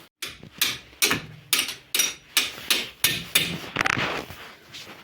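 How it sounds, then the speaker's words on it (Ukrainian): Steady hammer blows on a Ford C-Max front suspension ball joint, about nine sharp strikes in an even rhythm, close and ringing. "Ключ на 21, молоточок і от вона вже піддалася нам."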